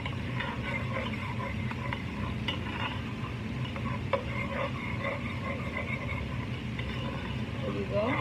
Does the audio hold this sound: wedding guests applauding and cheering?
no